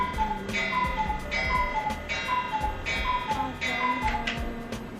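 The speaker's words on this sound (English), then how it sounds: "This is my cuckoo clock." A cuckoo clock ticking close by in a steady, even rhythm of sharp ticks, with faint chiming tones running under the beat and no voices over it.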